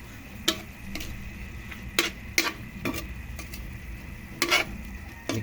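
Chicken liver and gizzard sautéing in oil for pancit canton, a low continuous sizzle punctuated by sharp, separate clicks of a spatula against the pan, several strokes spaced about a second apart, close and with no voices.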